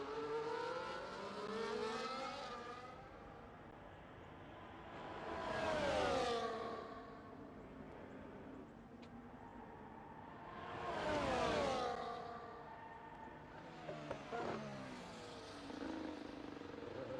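Racing video game cars, including an Aston Martin and a McLaren, roar past in three separate passes, each rising to a loud whooshing peak and fading again over a steady background engine drone.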